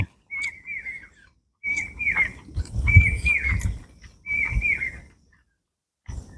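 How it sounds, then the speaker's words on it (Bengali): Birds call outdoors in repeated bursts of bright, chirping whistles, four or five phrases with short pauses between, fairly close and clear. "বাইরে পাখি ডাকছে"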